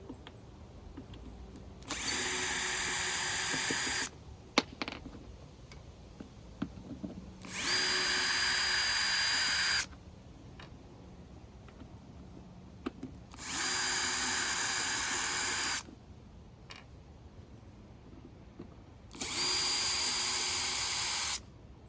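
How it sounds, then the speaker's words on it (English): A power screwdriver backs screws out of a vintage 1980s Korg Poly-61 synthesizer, four separate whirring bursts of about two seconds each, close and clear, with faint handling clicks in between. "We're just gonna go ahead and take the rest of the screws out except for those two."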